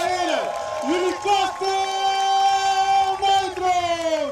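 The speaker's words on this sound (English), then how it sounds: "the Trojans or the Nitros are getting a very well-deserved applause from the home crowd" A home crowd at a BNL American football game between the Rotterdam Trojans and Kasteel Nitro's applauds and cheers, loud and steady throughout, with long sustained whooping tones rising over the noise.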